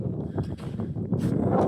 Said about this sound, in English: If the wind wasn't blowing, man, it'd be the perfect day.